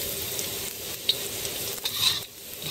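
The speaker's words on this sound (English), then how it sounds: "Fry it until it turn like golden brown." Tofu fries in a pan for a stir fry with bean sprouts, giving a steady sizzle with a few sharp crackles and scraping stirs, close and fairly loud, with no talking.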